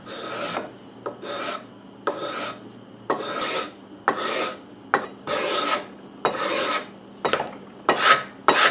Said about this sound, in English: And now I'm going to move over to a card scraper.